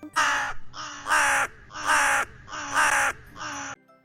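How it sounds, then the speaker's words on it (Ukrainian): Crow cawing from a tree, five loud harsh caws in a steady evenly spaced rhythm, close and clear with no talking. "Ворона. Де ворона? Ворона на дереві."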